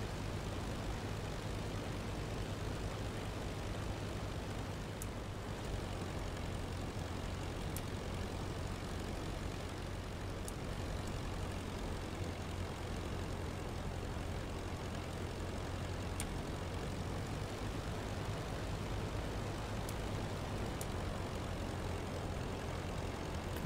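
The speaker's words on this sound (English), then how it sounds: "We're gonna slip the plane real quick to bleed off some airspeed." Aircraft engine droning steadily in flight in the Rise of Flight WWI combat flight simulator, a continuous loud hum with a low tonal drone that holds unchanged throughout, with no talking.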